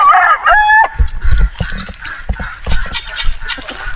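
Native chickens cluck and squawk close by, with one bird letting out a short, harsh crow-like call at the start, followed by scattered clucks and rustling.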